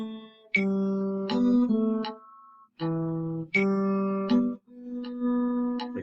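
Guitar picking a melody at a slow 80 bpm, a short sustained phrase, a pause, then the phrase repeated, close and clear with no talking.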